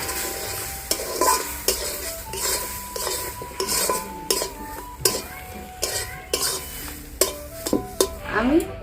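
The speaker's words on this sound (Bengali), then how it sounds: "একটু 2 কাপ মতো জল দিয়ে আবার একটু ভেজে নেব।" Semolina and powdered milk frying in a pan, a soft sizzle broken by regular clanking stir strokes of a utensil against the metal, close and steady, with no talking.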